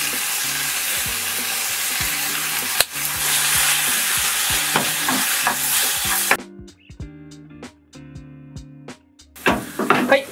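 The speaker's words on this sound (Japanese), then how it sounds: "そしたらこれくらいになるまで炒めてください" Vegetables stir-frying in a pan for a salmon quiche make a loud crackling sizzle broken by repeated spatula scrapes and knocks. The frying drops out midway, leaving sparse clatter and a low hum before sizzling briefly returns.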